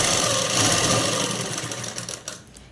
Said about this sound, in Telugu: హ్యాండ్స్ దగ్గర ఒక కుట్టు వేసుకున్న తర్వాత ఇంకొక కుట్టు వేసుకోవాలి.